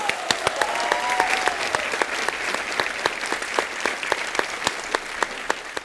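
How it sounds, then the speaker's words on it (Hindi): Studio audience at a comedy talk show clapping loudly and steadily, with sharp individual claps standing out over a dense wash of applause that continues throughout. "जोरदार तालियां बजाएं।"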